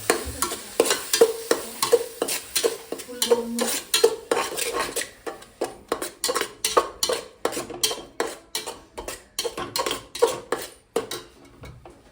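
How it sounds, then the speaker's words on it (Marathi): Rhythmic scraping and clinking of a spatula stirring mutton spice masala in a hot pan, with a soft sizzle underneath, repeated steadily throughout. "आणि व्यवस्थित परतून घ्यायचा मसाला"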